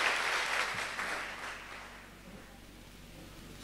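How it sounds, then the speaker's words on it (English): A church congregation claps hands for Jesus Christ, a loud burst of clapping that fades gradually into a quiet room within a couple of seconds. "Clap your hand for Jesus Christ very well."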